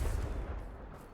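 A Confringo fire spell bursts in Hogwarts Legacy, giving a short, heavy, booming blast with rumbling low-end decay, close and loud, with no talk over it.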